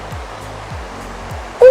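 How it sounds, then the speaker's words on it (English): A waterfall at Aburi gives a steady broadband rush, heard from a distance, with soft low thumps recurring beneath it before a sudden loud tone cuts in at the end. "I get a glimpse of the waterfall."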